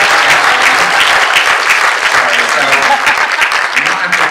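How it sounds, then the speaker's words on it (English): At the Carrollton Idol 2014 singing competition, a crowd gives three male performers a sustained, loud round of applause mixed with cheering voices. "Let's give a round of applause for these three fellas."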